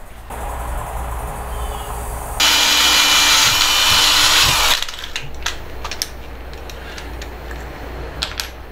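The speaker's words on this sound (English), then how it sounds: "Drill and tap." A power drill whirs loudly for a couple of seconds drilling a hole in a light post, then stops, followed by quieter scattered tapping and clicking sounds as the hole is tapped.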